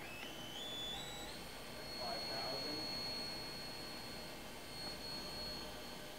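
An Ares Seiki CNC vertical machining center runs its 12,000 RPM BT30 Big Plus spindle, giving a steady whine that climbs in pitch as it speeds up, with faint background noise.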